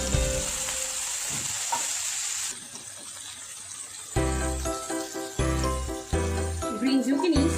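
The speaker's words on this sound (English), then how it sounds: "First I will add broccoli" Broccoli added to a pan of hot butter and chopped garlic, a steady sizzle and frying hiss that turns into clattering stirring and a few tinkles near the end, close and fairly loud.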